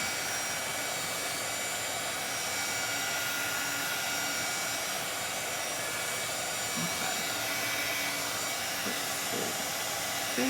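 A hair dryer blowing to dry paint on a DIY sailboat beach craft, a loud, steady, close whoosh with constant airflow noise the whole time and no voices.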